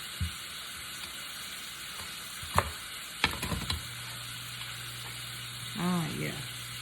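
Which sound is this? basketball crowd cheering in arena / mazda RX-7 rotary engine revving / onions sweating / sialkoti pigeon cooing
onions sweating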